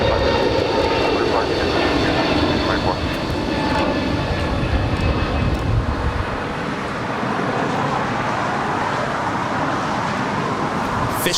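A JetBlue Airways Airbus A321neo jet at Los Angeles International Airport produces a steady, broadband engine roar. The roar runs loud and continuous through the whole stretch, with faint voices mixed in beneath it.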